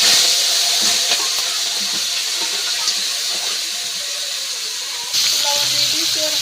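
River crabs hitting hot oil in a home kitchen give a loud, steady hiss and sizzle that runs throughout and swells again near the end, with faint background sounds.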